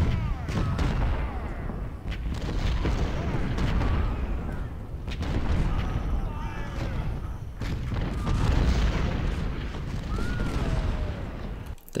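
Cannon and artillery from the Civil War battle game Ultimate General keep up a dense, rumbling barrage of overlapping booms. It stays loud and steady throughout, with faint higher whistles drifting over the low roar.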